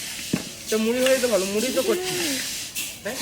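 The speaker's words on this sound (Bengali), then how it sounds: "এই চাল ভাজা হয়ে যাবে" Rice roasting in a hot pan with mustard oil to make puffed rice, giving a steady close sizzle and scraping stir, with a voice speaking over part of it.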